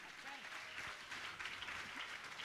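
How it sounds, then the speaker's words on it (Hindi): Faint, steady applause from an audience at a Jain religious discourse gathering, a soft continuous patter of clapping heard from a distance. "पुनः जोरदार बजा ताली"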